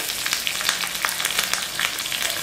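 Curry leaves hitting hot oil for a rava (suji) dhokla tempering, giving a steady, close, dense crackling sizzle with small pops throughout and no voices.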